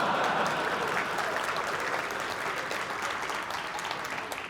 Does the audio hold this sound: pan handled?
no